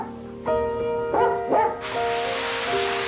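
A dog gives a few sharp barks and yips in quick succession, close and fairly loud. A steady hiss like running shower water follows.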